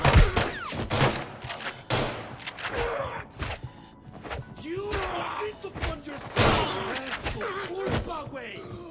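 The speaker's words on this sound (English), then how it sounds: "Let me take this gunfight real quick" Gunfire during a firefight in the mobile shooter Arena Breakout, bursts of sharp shots and thuds crowding the clip, with a voice talking over the fighting throughout.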